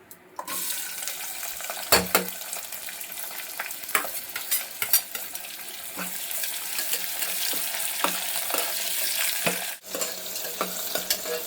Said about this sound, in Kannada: ಈರುಳ್ಳಿ ಫ್ರೈ ಮಾಡ್ಕೋಬೇಕು ಚೆನ್ನಾಗಿ.